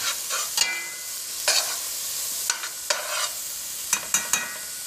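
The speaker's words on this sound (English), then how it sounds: "Now I'm just going to stir this around a little bit" Garlic sizzles steadily in a hot pan while a utensil stirs it, sharp scraping knocks landing every half second or so over the continuous close frying hiss, with no voices.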